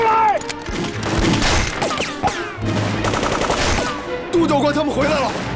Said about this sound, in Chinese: 火力太猛了，咱们快没子弹了